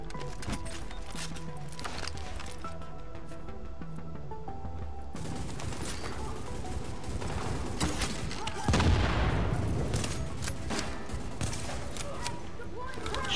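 Shotgun blasts in the Tom Clancy's The Division finale, a burst of loud booming gunfire partway through amid a busy mix of other gunfire and game sounds, with voices talking over it.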